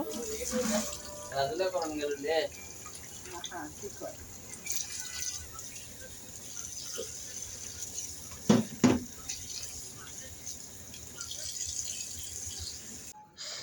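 Bathua greens are rinsed under a running tap, with water splashing and trickling at a modest level, broken by brief handling clatter and a few louder splashes.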